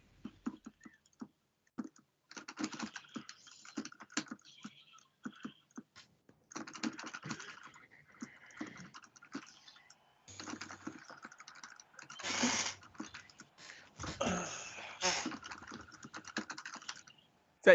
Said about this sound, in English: Is that you typing, Alex?